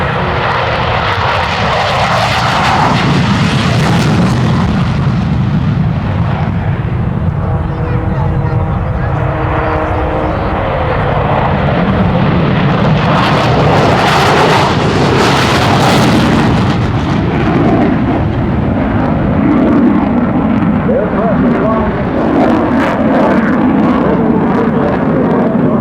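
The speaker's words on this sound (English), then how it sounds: "The F-15s of the 104th Fighter Wing are now going to simulate an alert launch." Massachusetts Air National Guard F-15 fighter jets of the 104th Fighter Wing scramble in an alert launch at the 2010 Westfield International Airshow, their loud, continuous jet engine roar swelling and surging over about 26 seconds alongside a public-address announcer.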